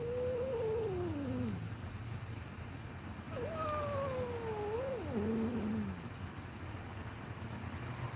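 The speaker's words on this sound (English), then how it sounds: "You gotta keep this cat away." A cat meows twice in long, wavering, drawn-out cries up close, the second longer and falling in pitch, over a steady background hum.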